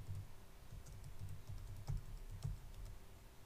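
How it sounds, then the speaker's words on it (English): Keystrokes on a computer keyboard clatter in a quick, uneven run, close to the mic, with a few sharper clicks standing out among the softer taps and no one talking. "Type in the single quote mark and then the phrase that you wish to search for."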